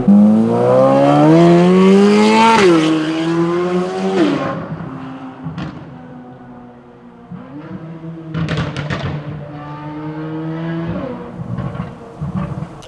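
A Corvette C8 Z06 with a titanium exhaust revs hard, its engine climbing in pitch through gears, dropping back, then surging again with crackles and pops, loud and close, with sharp bursts between the rising runs.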